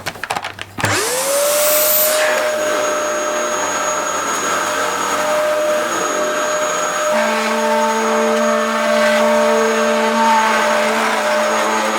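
A Dyson DC07 upright vacuum cleaner switches on with a sharp whirring spin-up, then runs loud and steady with a rising motor whine, and its pitch shifts slightly partway through.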